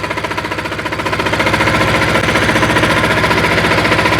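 A walk-behind tractor engine running in first gear makes a loud, close, rapid rhythmic thumping that grows slightly louder after a second and holds steady.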